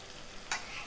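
Tatterini tomatoes drop into a hot frying pan, setting off a short, bright sizzle burst over a quiet, continuous background hiss.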